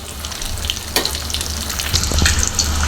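Chicken samosas deep frying in hot oil, a loud continuous bubbling sizzle with crackles and occasional sharper pops, close up and steady throughout.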